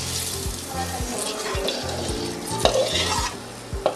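Cashews fried in ghee sizzling steadily as they are stirred into carrot halwa, with a rhythmic series of spoon scrapes against the pan, close and fairly loud.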